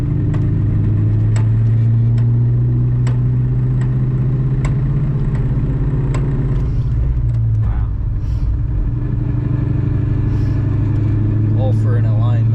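A Ford Mustang with a damaged transmission being driven in second gear, its engine holding a loud, steady low drone from inside the car with faint clicks, easing slightly near the end.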